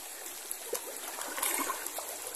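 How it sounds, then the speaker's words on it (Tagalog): Steady stream water flowing in an open outdoor area, a continuous broadband rush with light trickling and gurgling, fairly faint and even throughout with no talk. "Medyo may kalakihan ngayon ng tubig mga idol."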